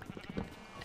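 A sheep in the Minecraft video game bleats in a short, quiet, wavering burst, heard alone with faint game ambience.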